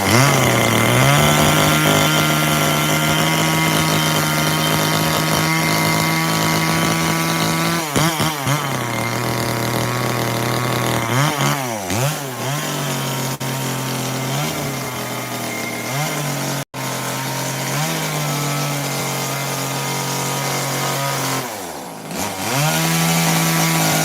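A chainsaw carves wood at a loud, continuous roar, revving up and down as it digs into the piece, with a brief cut-out near the end and no talking.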